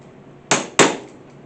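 A hammer drives a chisel into a live-edge wooden bowl blank: two sharp, loud knocks about a quarter second apart, each with a brief ringing tail.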